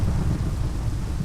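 Steady rain with a low thunder rumble in the game Minecraft, a dense, continuous wash of weather noise that stays constant throughout.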